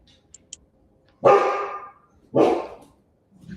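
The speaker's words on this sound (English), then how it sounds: "Whose dog is that? That's my sister's dog." A dog gives two loud, close barks about a second apart, each with a drawn-out, tonal tail, followed by quiet background.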